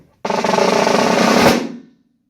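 A fast snare buzz roll, a smooth continuous sizzle of pressed strokes swelling steadily into a sharp closing accent, then a quick decay into silence, played close and alone.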